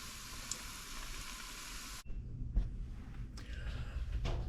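Korean-style fish cakes frying in hot oil give a faint, steady sizzle that drops out briefly partway through and then resumes with soft crackling bubbles.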